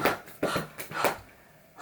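A voice imitates Honey horse panting as she runs, in quick breathy huffs, about four close bursts in a short rhythmic burst.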